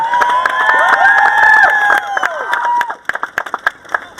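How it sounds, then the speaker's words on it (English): A large outdoor crowd at a charity awareness walk cheers and whoops loudly, with high shouts and claps layered together, then the noise breaks into scattered claps and shouts before dying down. "Let's give Paul a great cheer."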